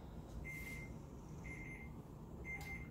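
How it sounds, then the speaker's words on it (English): Three evenly spaced electronic beeps from an oven timer after an hour of baking an apple pie in a skillet, each a clear tone about a third of a second long, over a steady low room hum. "So you hear the beeping. That means that our pie is officially been in the oven for an hour."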